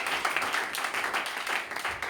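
A church congregation claps and applauds God during a Sunday service, a steady, dense patter of many hands continuing throughout with no pauses.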